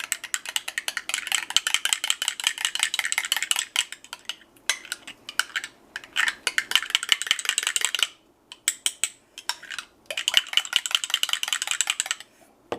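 Honey and Dijon mustard are mixed by hand in a bowl, producing a steady run of quick clicking, rattling strokes that pause briefly now and then before resuming.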